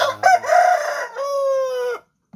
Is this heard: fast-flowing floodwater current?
no